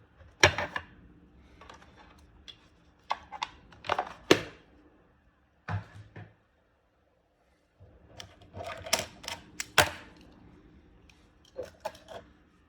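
A small screwdriver works on the battery cover screw of a Nintendo DS Lite. Faint, close clicks and light plastic rattles come in scattered bursts separated by quiet pauses.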